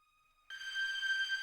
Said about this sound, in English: It's basically like a high screechy type of sound.